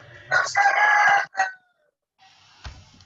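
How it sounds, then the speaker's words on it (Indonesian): A rooster gives one loud crow close by in a strained, broken phrase, followed by silence and then a faint cluck. "Ayam jago siapa itu?"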